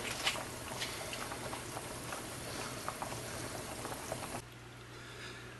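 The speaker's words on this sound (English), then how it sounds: "I'm going to go ahead and just let it simmer for 20 minutes" Hungarian goulash simmering in a pot gives a steady, soft bubbling and liquid patter, close and even, with no voices, before the sound drops to a quieter hum near the end.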